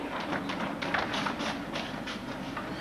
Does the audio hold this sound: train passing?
yes